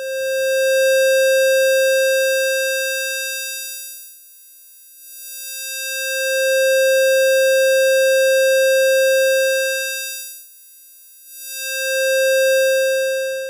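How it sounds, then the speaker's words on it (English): A bright, buzzy square-wave synthesizer tone through a high-pass filter holds a steady pitch, cutting out briefly twice before resuming, loud and unwavering. "This is a square wave through a high-pass filter."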